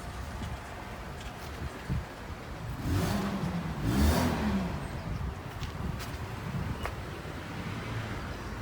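The engine of a 1997 Mercedes car revs twice in a row, a rising and falling whine heard from moderate distance over a steady outdoor hum at a car market.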